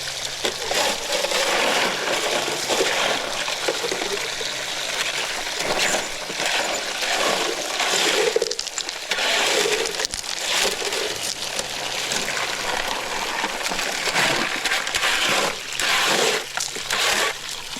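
A highbanker gold sluice machine running with water in North Georgia, producing continuous splashing and sloshing that stays steady and fairly close throughout.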